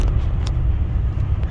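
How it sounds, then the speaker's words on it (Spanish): Heavy traffic on a Houston freeway, a loud continuous low rumble of tires and engines with faint passing swishes, as if heard from inside a moving car, no voices. "El tráfico está un poco pesado, como pueden ver"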